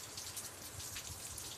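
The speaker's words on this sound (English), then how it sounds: "It's raining." Rain falls late at night, a soft, steady patter of drops on surfaces, faint and continuous with no voices.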